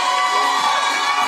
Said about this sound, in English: Loud, happy people.